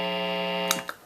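Single-coil electric guitar through distortion with no noise suppressor, a sustained buzzing hum with steady harmonic whine, broken near the end by two brief clicks or scratches.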